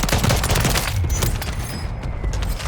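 Dense, loud gunfire rattles throughout a Resurge match on Call of Duty Warzone-style combat, a near continuous volley of sharp shots with debris-like crackle and no speech.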